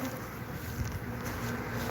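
Honey bees feeding on a peppermint pollen supplement make a dense, close, continuous buzzing hum, with no voices.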